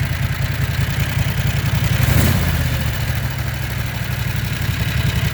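A 670 cc Predator small engine with no governor, fitted to a Cushman, idles steadily up close, a continuous even putter that holds its pace without revving.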